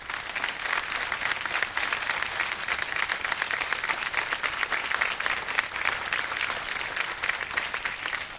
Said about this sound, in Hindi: तो तालियां दीजिए इनकी जवान दिली को और स्वागत कीजिए दामिनी और ईश्वर लाल शाह का